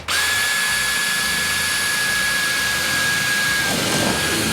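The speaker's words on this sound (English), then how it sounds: "I have my drill bit. So first I'll drill a hole in this one." A power drill whines at a steady high pitch, running continuously and loud before slowing slightly near the end.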